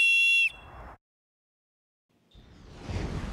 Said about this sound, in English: use a whistle like this one